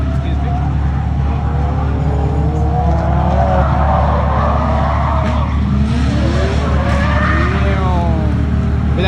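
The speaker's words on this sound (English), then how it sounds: "drift cars come by" Drift cars, including a Mini Cooper, skid past with rising and falling tire squeals and engine roar over a constant low rumble, moderately distant, at a drift event's pit area.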